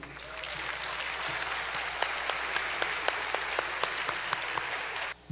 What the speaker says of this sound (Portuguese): receber com muitos aplausos